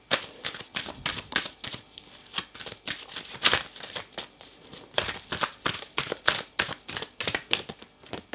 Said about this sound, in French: Je vais écarter un petit peu les cartes.